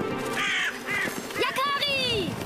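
Cartoon ravens cawing, a quick series of harsh, rising and falling calls repeating several times, close and clear, with voices and background score underneath.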